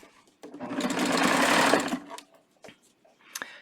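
Serger stitching a banded hem, a short burst of fast, dense mechanical whirring for about a second and a half, then brief taps and handling noises, close and alone.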